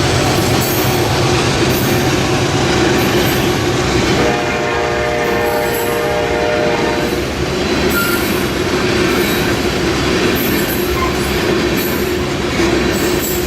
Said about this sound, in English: A General Electric ES44AC with an older GE AC 4400